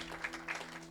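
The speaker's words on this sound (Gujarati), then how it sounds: "જોરદાર તાળીઓના નાદથી એમને વધાવીએ" Brief burst of applause welcoming a kathā speaker at a Swaminarayan Hindu temple Patotsav festival event in Calgary, a short, steady clatter of clapping heard close.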